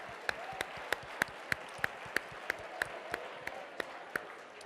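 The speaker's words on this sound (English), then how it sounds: "Give your partners a round of applause." Light applause from an audience at a Second City Works marketing event in Toronto, a soft bed of clapping with a few sharper, evenly spaced claps standing out, moderately faint throughout.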